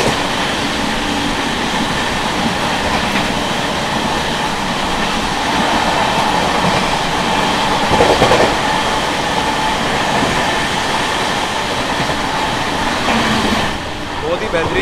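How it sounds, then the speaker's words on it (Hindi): The Garib Rath Express, an LHB-coach train on the Amritsar–Saharsa route, rumbles loud and continuous as it overtakes the Jhelum Express standing at Narela, with steady rail roar throughout and a brief drop near the end. "गाइस यहाँ होने जा रहा है ओवरटेक झेलम एक्सप्रेस का"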